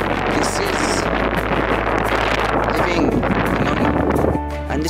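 Strong wind gusting across a mountainside, a loud, steady roar with heavy low-end buffeting against the microphone that continues without pause, easing slightly near the end.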